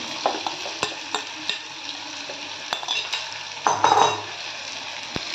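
Marinated broiler chicken is stirred in a matka clay pot over heat: a continuous sizzle punctuated by sharp scraping knocks of the spoon against the pot, with a louder burst of frying near the end.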